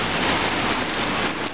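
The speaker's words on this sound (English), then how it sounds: "this is what a class 3 typhoon looks like" Heavy class 3 typhoon rain pours down in Tai Po, Hong Kong, a dense, loud, continuous hiss of rain striking surfaces nearby, with no voices.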